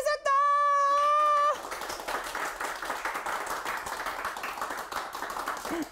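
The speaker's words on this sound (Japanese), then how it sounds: "これさっきのいい話に対しての拍手も混ざってる、ちょっと長めのやつでしたね" Audience applause during a live-streamed 42nd birthday broadcast follows a brief sustained electronic tone. The clapping is dense and continuous, lasting several seconds at a steady level.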